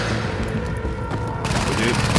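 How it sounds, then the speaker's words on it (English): Dense, muffled machine gun fire in the shooter game The Division, a sustained rattling burst heard in the middle distance, with a voice speaking over it. "There's a machine gun guy"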